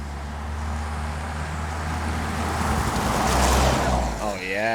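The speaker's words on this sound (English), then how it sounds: "You guys heard those turbos," 2024 Toyota Tacoma turbocharged engine revving up with a broad, steady roar that swells near the end, loud and close, with a brief voice at the close.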